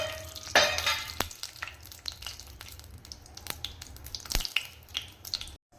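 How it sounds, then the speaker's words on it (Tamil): Mustard seeds splutter in hot oil in a pan for a village beans and potato sabji, scattered sharp pops and crackles over a soft sizzle, close up and irregular, with a louder burst early on and no talk. "நம்மளோட எண்ணெய் காஞ்சிருச்சு, நாம் கடுகு போட்டுக்கலாம்."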